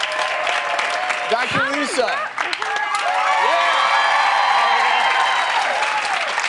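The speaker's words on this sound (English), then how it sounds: "Clap if you think he has the biggest bicep." Audience clapping and cheering to vote in a biceps contest, loud crowd applause with whoops and shouted voices, briefly dipping before swelling into sustained cheering; people talk over it.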